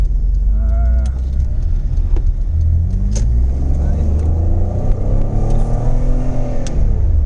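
A Citroën Xantia V6 accelerates around the outdoor test track at La Ferté-Vidame, its engine note rising in loud, continuous sweeps that fill the whole stretch.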